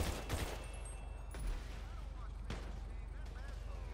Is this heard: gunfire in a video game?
yes